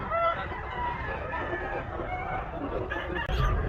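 Chickens cluck and roosters crow in overlapping calls at a crowded, rain-soaked animal market in Bocaue, steady and close, with faint background chatter.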